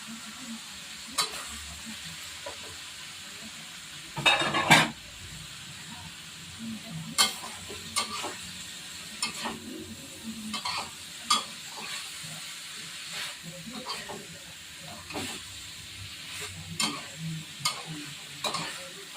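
Chicken giblets stir-fried with bell peppers and onion in a pan: an irregular steady sizzle with a ladle scraping and stirring, sharp clatters at uneven intervals, and a louder burst of frying near the start.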